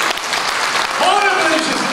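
Applause from an audience of several hundred at a founding convention hall, a loud, dense clapping that continues steadily through, with a voice speaking over it.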